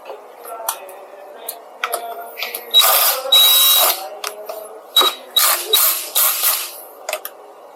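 Bolts on a MAX G2 front fork are tightened in short bursts of loud, buzzing power-driver whir, broken by clicks and ratcheting ticks and small metallic handling sounds between the runs.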